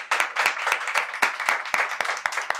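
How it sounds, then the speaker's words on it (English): Audience clapping in a speaking session, a steady wash of hand claps close and moderately loud, with individual sharp claps standing out in an irregular rhythm. "please give a clapping for Prateek"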